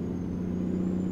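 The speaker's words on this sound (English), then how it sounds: "This thing's got the C-15 Caterpillar in it." A truck with a Caterpillar C-15 engine, 1250 horsepower and an 18-speed transmission, idles in American Truck Simulator, giving a steady low diesel drone with no speech.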